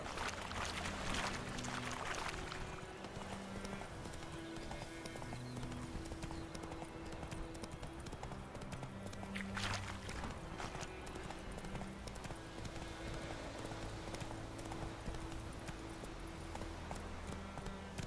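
Roach, a horse in the video game The Witcher 3: Wild Hunt, gallops with continuous rhythmic hoofbeats over sustained game music and ambience, steady and moderately loud throughout.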